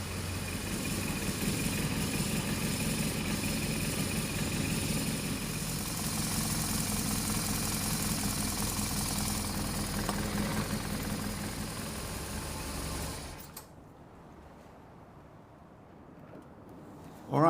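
A BMW R1200GS Adventure's boxer engine idles steadily while warming up, a close, even rumble that runs for most of the stretch before cutting off into near quiet, with a sharp knock at the very end.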